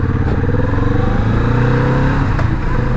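A Kawasaki Vulcan S motorcycle engine drones steadily while riding, a continuous close hum with a faint rise in revs and wind rush, no talking.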